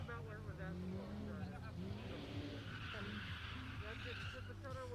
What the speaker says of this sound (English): Oops, spitting and sputtering a little bit.